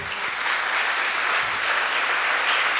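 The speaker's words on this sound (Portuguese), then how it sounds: "Então aplauda ao Senhor." A church congregation applauds the Lord during a sermon, a steady dense wash of many hands clapping at even loudness throughout, with no voices over it.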